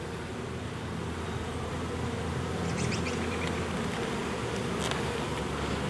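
Honeybees buzz steadily at an opened hive after winter, a dense, continuous drone close by with a few sharper passes of individual bees flying near.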